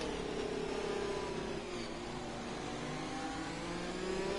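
A Ferrari Formula 1 car's engine in the F1 2020 video game at the French Grand Prix, a steady high-pitched whining drone that slowly shifts pitch as the car passes, loud and continuous with no talk.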